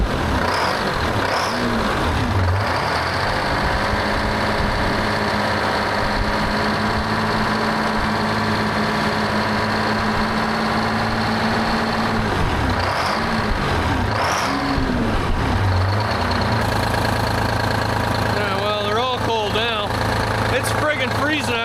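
A V12 two-stroke diesel in a 1975 Peterbilt heavy-haul truck runs in freezing weather, a loud, close idle with rising and falling revs, a brief rev near the middle and a rough, shifting tone toward the end.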